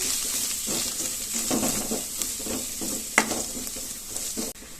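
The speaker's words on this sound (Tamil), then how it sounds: "இப்போ இந்த மசாலாவையும் நல்லா வதக்கிக்கலாம்" Masala for chicken gravy sizzles and fries in a hot pan while a spoon stirs and scrapes, with occasional clinks of metal against the pan.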